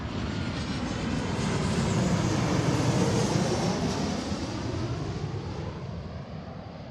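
A jet arriving from Detroit lands on runway 34L at Seattle, its broad engine roar swelling to a peak partway through and then slowly easing, heard steadily with no talking.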